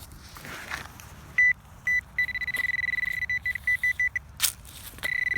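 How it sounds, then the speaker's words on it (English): Metal detector beeping again and again at buried signals in woods around abandoned house ruins: a run of short, loud, evenly spaced electronic tones, with a few longer held beeps, over quiet outdoor background. "The detector is just going off everywhere."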